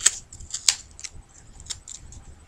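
Scissors snipping through a strip of duct tape, a few sharp clicks and short cutting sounds close by, quiet in between, no speech.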